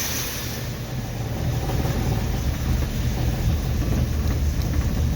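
A 1990 Jeep Wrangler engine idles low, a steady, rough rumble heard close up that grows slightly louder after the first second and then stays even, with no talking.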